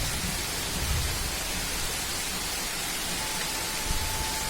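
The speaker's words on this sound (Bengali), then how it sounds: "কি বৃষ্টি হচ্ছে।" Steady rain falls over a home garden with jamrul, jackfruit, bel and mango trees, a continuous broadband hiss that stays even and dense throughout with no voices over it.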